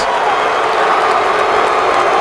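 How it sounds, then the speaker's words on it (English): An NFL stadium crowd roars loudly against the Philadelphia Eagles, a dense, continuous wall of jeering and crowd noise with no breaks. "And the crowd lets the Eagles have it as Kyle Wilbur makes that last stop"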